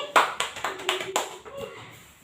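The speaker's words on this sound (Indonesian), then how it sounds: "Kasih tepuk tangan untuk Denny." A small classroom group gives brief applause for a student, roughly seven or eight scattered, distinct hand claps close by, tapering off within about two seconds.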